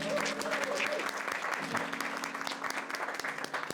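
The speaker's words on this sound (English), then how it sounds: "massive round of applause to the finance team for an awesome breakfast" An office group of about forty people claps for the finance team after a shared breakfast, a dense, steady round of applause from the first moment that trails off slightly toward the end.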